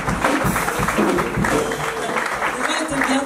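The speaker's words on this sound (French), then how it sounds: "Applaudissez pour Jésus." A church audience claps in a burst of applause, close and steady, with a voice speaking over the clapping.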